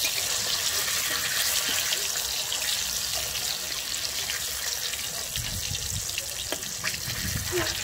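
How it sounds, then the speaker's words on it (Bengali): Fish shallow-frying lightly in oil in a pan, a close, steady hiss and crackle with scattered sharper pops and spatters over the whole stretch. "আমি মাছটা কিন্তু এখানে খুব বেশি কড়া করে ভাজবো না, মোটামুটি হালকা করে আমি ভেজে নেব।"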